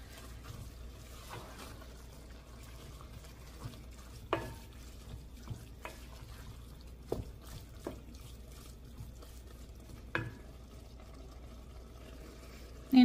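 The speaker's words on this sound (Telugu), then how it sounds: "బాగా మిక్స్ చేసుకోవాలి." A spoon stirs a mutton keema biryani mixture with squeezed lemon in a pot, quiet scraping and soft wet clicks at irregular intervals over a low background hum.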